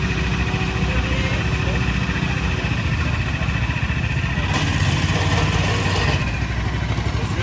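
The engine of an SAE Baja off-road car runs steadily at idle during an engine check, a constant buzzing mid-range drone with people talking over it.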